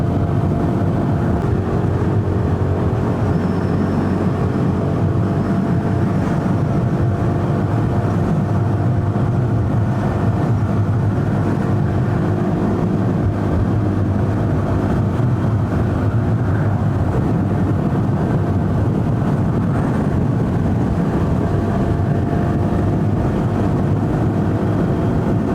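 A KTM 390 Duke motorcycle rides on a windy day, its engine a steady drone under constant loud wind roar that holds evenly throughout with no talking.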